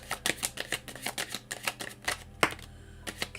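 Tarot cards being shuffled and drawn, a rapid series of crisp, close riffling flicks and taps, quiet and without talk.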